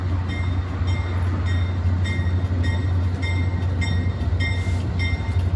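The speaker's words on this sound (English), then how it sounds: "there's another train pulling in. That is a CN freight train." A CN freight train pulls into a station, its low steady rumble and rolling rail noise continuous and fairly close, with faint rhythmic clicks of wheels over joints and no voices.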